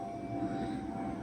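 An aeroplane passes overhead near a construction site, a steady broad engine roar with a faint sustained whine, constant in level throughout and moderately distant.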